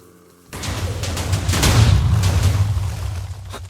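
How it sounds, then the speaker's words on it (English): A firework spell from a Minecraft magic mod bursts with a loud boom after a quiet start, followed by a sustained crackling rumble that slowly fades. "Bang. Firework."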